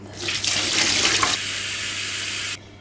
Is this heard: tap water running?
yes